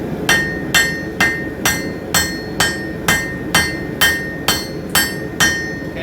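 Hammer blows on a san mai steel billet being forged, twelve sharp ringing metallic strikes at a steady rhythm about every half second, loud and close over a low background roar, with no talking.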